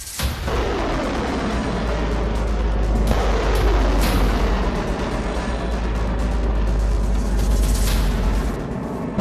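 A missile launch, a loud sustained roaring rumble that swells and holds for several seconds with a heavy low-end boom, then tapers slightly toward the end.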